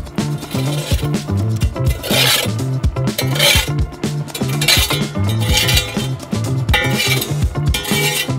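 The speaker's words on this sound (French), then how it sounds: "Nous mettons les charbons sur les côtés." Charcoal is scraped and set along the sides of a hot oven, producing rhythmic metallic rasping and clinking strokes, loud and close, repeating steadily throughout.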